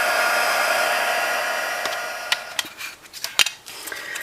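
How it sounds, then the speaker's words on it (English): A handheld embossing heat tool warms up for card making, a steady loud blowing whoosh that starts at once and holds, fading slightly, with a few sharp light clicks and taps of craft items near the end. "I'm going to warm up my heat tool."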